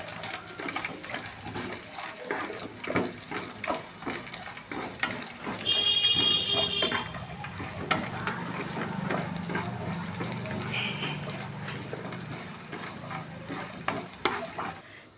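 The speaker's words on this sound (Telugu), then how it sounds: "తర్వాత ఇలా 5 చిన్నులపాయలని చిన్న చిన్న ముక్కలుగా కట్ చేసుకొని వేసుకుంటున్నామండి. దీన్ని కూడా ఇలా కొంచెం సేపు ఫ్రై చేసుకుందాం." Five small shallots, chopped fine, frying in a pan: a steady close sizzle with frequent stirring scrapes and clicks, swelling louder midway and continuing evenly to the end.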